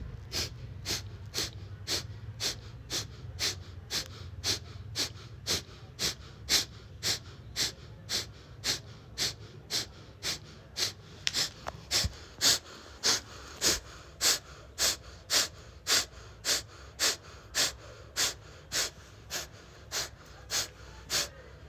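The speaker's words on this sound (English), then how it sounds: "Practice Kapalbhati," Kapalbhati pranayama during a beginner hatha yoga session: a long, steady run of forceful, sharp nasal exhalations, evenly spaced at roughly two per second, close and loud, with no talking.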